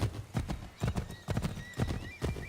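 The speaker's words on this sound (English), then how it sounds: "This horse needs to start running." A horse gallops in the video game Assassin's Creed 3, its hooves drumming in rapid rhythmic clip-clop bursts, close and loud, with a brief whinny and no talk.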